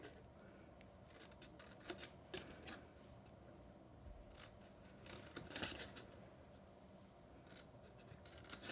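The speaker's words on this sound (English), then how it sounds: "Just take your time cutting straight up the middle of those score lines." Scissors cutting along the score lines of a papercraft gift box, with a series of close, quiet snips and rustling paper in an irregular rhythm.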